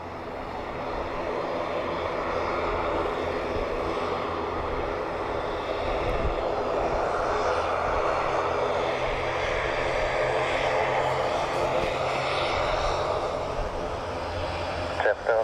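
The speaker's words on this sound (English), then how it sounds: "Qatar 777 in from Doha." A Qatar Airways Boeing 777 arriving from Doha lands at Dublin Airport on runway 28 left, its steady engine roar loud and continuous throughout with faint radio chatter beneath.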